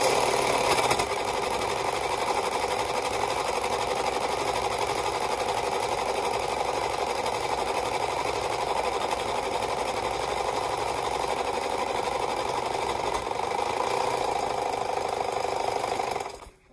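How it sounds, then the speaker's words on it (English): A serger sewing machine stitches across a fabric edge, a loud, steady, fast mechanical whir held for many seconds before stopping abruptly. "go ahead and stitch across that to close and finish that open edge"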